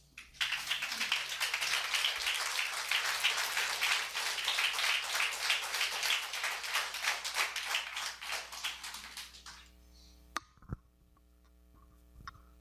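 A church congregation claps steadily and loudly for around nine seconds, dense sustained applause that stops abruptly, followed by a couple of faint knocks in a quiet room.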